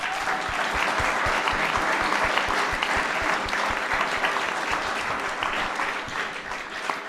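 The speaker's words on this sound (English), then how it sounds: "let's give them one more round of applause" An audience at a city meet-the-candidates event claps steadily for the candidates, a dense, even patter of many hands that tapers slightly toward the end.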